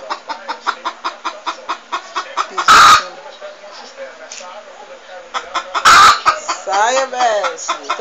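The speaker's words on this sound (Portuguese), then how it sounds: "É, galinha." A chicken clucks in a steady run of short, close calls, broken twice by loud, sharp bursts of noise, with a few lively, warbling clucks toward the end.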